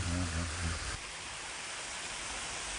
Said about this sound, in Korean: 폭포 소리가 산 안에 요란하게 울려 퍼진다.